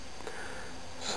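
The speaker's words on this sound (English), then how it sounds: "So I'll give it a sniff now." Someone takes a short nasal sniff of a glass of Fuller's Extra Special Bitter ale, a brief, close breathy inhale that rises at the end.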